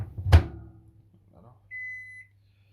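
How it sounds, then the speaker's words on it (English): A dull thunk is followed, after a short quiet gap, by a single sustained electronic beep from a Panasonic microwave oven finishing. "this one has a traditional Panasonic 5 beeps, and when it finishes and everything"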